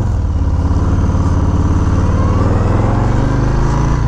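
A Harley-Davidson motorcycle engine, a 2021 Street Bob 114 or Low Rider S, rumbles loud and close while riding, a steady throbbing drone with a slight rise in pitch.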